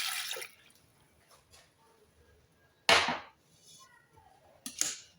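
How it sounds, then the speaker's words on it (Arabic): A glass of water tinted with saffron goes into a cooking pot in a few short, bright splashing bursts separated by quiet stretches. "غادي ندير كاس ديال الماء اللي فيه شويه الزعفران الحر"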